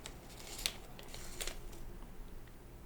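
Origami paper is folded and creased in a few quiet, crisp crinkles and taps, faint and close, with no voices.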